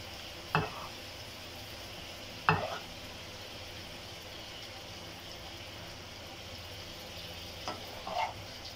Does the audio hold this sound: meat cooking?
yes